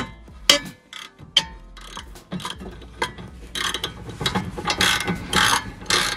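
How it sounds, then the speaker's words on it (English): A spanner ratchets on a spinning part during a spring repair. The sharp mechanical clicks and clatter come in irregular bursts, close and fairly loud, with short pauses between them and no talking. "you might need a spanner on that as well"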